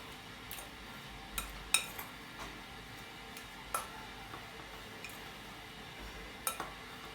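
Faint scattered clicks and soft squishing come from a spoon stirring a mashed potato mixture in a bowl, with occasional sharper taps against the side.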